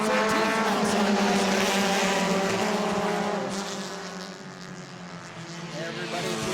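Stock cars racing at New Smyrna, loud roaring engines with layered harmonic whine from several cars passing, fading somewhat midway then building again, with commentators talking over the noise.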